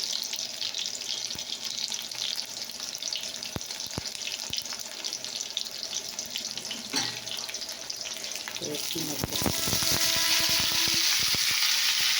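Soya chunks and potatoes tipped into hot oil, a crackling sizzle running under scattered clinks and knocks, then swelling into a louder, denser fry toward the end, with no voices.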